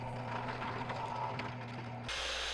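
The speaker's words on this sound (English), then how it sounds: "Here I'm just drilling out the holes of the arm mounting brackets" A small drill whirs steadily with a high mechanical buzz while drilling holes in small arm mounting brackets, then cuts off abruptly near the end, leaving a quieter hum.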